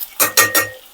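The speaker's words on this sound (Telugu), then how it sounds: "మూత పెట్టేసుకుందాం." A metal lid set onto a cooking pot of tomatoes and spiny gourd: three quick, close clattering clinks in rapid succession, then quiet.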